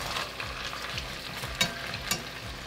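Beef frying in a pot with bacon for beef bourguignon, a steady close sizzle with a few soft stirring scrapes and clinks, with no talking.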